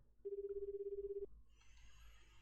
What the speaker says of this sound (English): Kano immediately pulled out his cell phone and called Tateno's number.